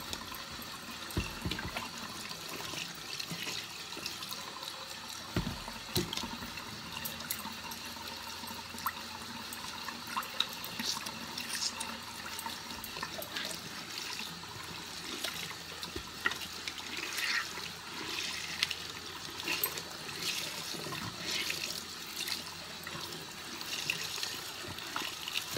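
Warm water runs steadily from a tap while makeup sponges are washed, a continuous close splashing trickle with occasional sharper splashes and handling sounds throughout.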